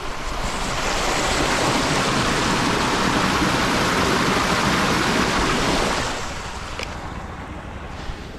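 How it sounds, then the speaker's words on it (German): Water rushing steadily beneath snow cover in Norway, a loud continuous broadband wash that holds for about six seconds, then drops to a quieter steady rush. "hier läuft eigentlich ein Fluss runter, der unterm Schnee ist"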